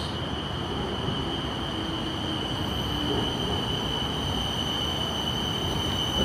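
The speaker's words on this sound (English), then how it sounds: "Here comes the train," A BTS Skytrain pulls into a station in Bangkok, a steady loud rumble of rail cars and wheels with a sustained high whine running the whole time, no voices over it.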